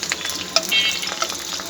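Whole spices, bay leaves, cinnamon, cardamom, cloves and black peppercorns, frying in melted ghee, giving a bright, close crackling sizzle with small pops throughout.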